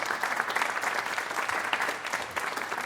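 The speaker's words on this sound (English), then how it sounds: "Round of applause, please." An audience claps steadily for the performer Beats by J Black, a dense, even wash of applause that carries on throughout without a break.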